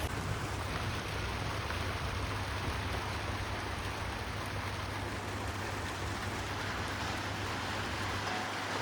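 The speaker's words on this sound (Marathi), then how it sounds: "पण इकडे तर येत आहे पाऊस, बघू शकता तुम्ही." Rain falls as a steady, even hiss that fills the whole stretch without pause, moderately loud with no talking.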